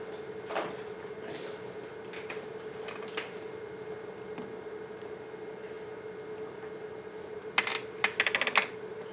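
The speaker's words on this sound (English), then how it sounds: "Escape on your keyboard." Computer keyboard typing in an indoor meeting room, scattered soft key clicks over a steady background hum, ending in a quick cluster of sharper taps.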